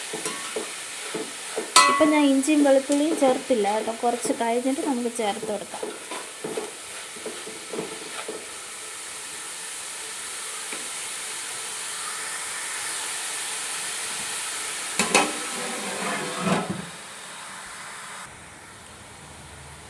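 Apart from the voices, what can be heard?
onions stirred and frying on low flame for biryani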